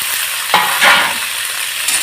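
Cut okra (bhindi) tipped into hot oil in a pan, giving a loud, steady hiss of frying with a couple of brief scrapes as the pieces settle.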